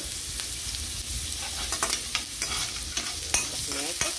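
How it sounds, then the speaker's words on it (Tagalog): Ginger and garlic sautéing in a pan for beef pinapaitan, giving a light, continuous sizzle broken by quick scraping stirs and small taps of a spatula, close and clear with no talk. "Loya at bawang together."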